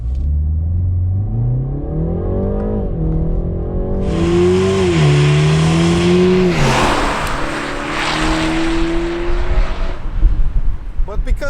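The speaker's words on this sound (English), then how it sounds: "the engine doesn't really run out of puff until it reaches the red line, which is at 6000 RPM" A 2019 BMW 330i G20 with a turbocharged four-cylinder engine revs up toward its 6000 RPM redline, the pitch climbing in stages. A loud, close whoosh follows, then the engine settles into a steadier drone.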